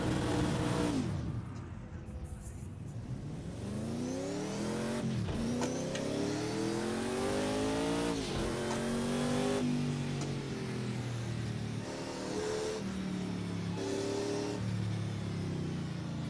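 Race car engine in the Project Cars 2 driving game, revving hard and climbing through repeated gear shifts, loud and continuous for the whole stretch with no talk.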